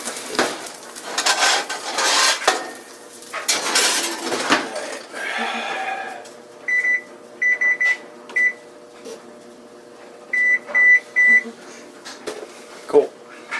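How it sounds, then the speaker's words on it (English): A cast iron pan of breaded parmesan chicken slid into an oven, metallic scraping and clattering at first, then a door closing and a run of oven control beeps in short clusters. "I'm just going to go ahead and throw it in the oven,"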